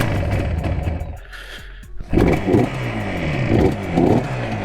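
A cold 1976 Yamaha RD400 motorcycle is kick-started. Mechanical clatter comes first, then a brief lull, and then the engine catches with a loud, rough, pulsing idle and short revs nearby.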